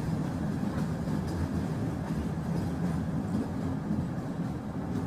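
A train runs steadily through the night, a continuous low rumble of wheels and carriage noise at even loudness with no talk over it.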